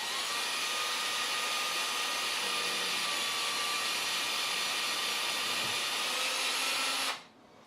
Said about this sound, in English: we're just going to drill in nice and steady